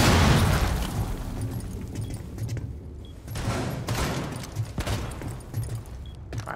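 A shotgun fires in Tom Clancy's Rainbow Six Siege. Several heavy, booming blasts come a second or so apart, loud and close, with rumbling debris between them and almost no talk.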